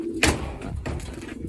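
A racing pigeon coos close by, giving one soft throaty call and then a second fainter one over a quiet loft background.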